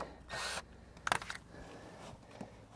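A power drill briefly loosens the track screws on an automatic safety pool cover, one short whirring burst followed by a quicker buzzing spurt, fairly close, with quiet pauses between.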